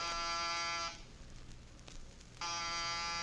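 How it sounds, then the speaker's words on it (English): A harsh electric door buzzer sounds twice, each a long steady drone, separated by a short pause. "No answer to the door buzzer."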